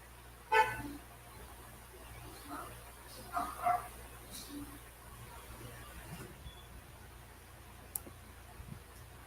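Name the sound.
car horn honking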